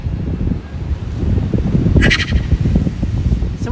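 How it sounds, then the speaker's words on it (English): Gulls at Asbury Park beach give a short, harsh cawing call over loud, gusty wind noise, close to the microphone. "Do you like that I'm feeding the seagulls?"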